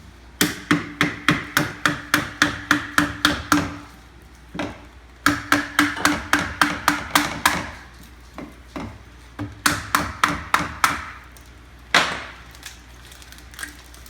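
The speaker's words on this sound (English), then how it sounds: "just take a hammer and knock these out like so" A hammer knocks mortar tubes out of a rack in rapid bursts of sharp, close strikes, several quick series of hits separated by short pauses.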